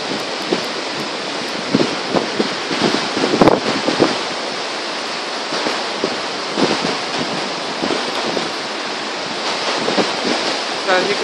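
Outdoor water rushes and flows steadily, carrying rose petals away. It makes a continuous broadband wash with wind buffeting the microphone, fairly loud and with no talk.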